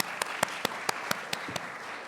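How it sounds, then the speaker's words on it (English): Audience applause at a university student symposium, steady clapping from a crowd held at a moderate level with a few sharper individual claps standing out, no talking. "So round of applause."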